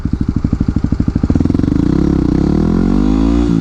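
A Yamaha motorcycle engine starts with rapid chugging pulses and then settles into a steady, loud, close idle while warming up during an oil change.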